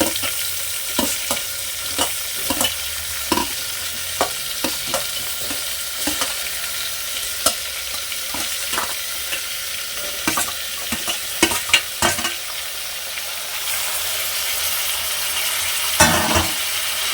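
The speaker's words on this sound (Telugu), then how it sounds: "ఒకసారి అయితే గిండి పెట్టి తిప్పేసుకున్న తర్వాత మనం కట్ చేసి పక్కన పెట్టుకున్న వెజిటేబుల్స్ అన్నీ వేసేసుకోవాలి" Cut vegetables being stirred into a hot frying pan for village-style sambar, steady close sizzling with repeated scraping clatters of a spoon against the pan, no talking.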